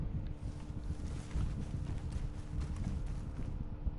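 A Missouri Foxtrotter horse in Red Dead Online clip-clops at a steady walking pace, hooves thudding close and continuous against a low rumbling background.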